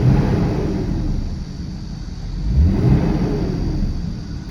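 A 20-year-old BMW E39 car engine idles with a low steady rumble, swelling slightly midway, heard close with no talking.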